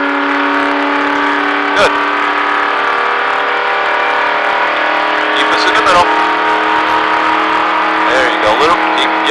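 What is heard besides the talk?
race car engine at Daytona Speedway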